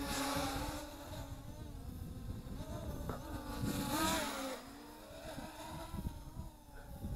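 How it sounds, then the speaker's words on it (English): A JJRC X3P brushless FPV quadcopter drone flying outdoors in wind: a whining motor hum that rises and falls in pitch as it manoeuvres, moderately close, with wind buffeting the microphone and no talking. "it's a sporty little quadcopter."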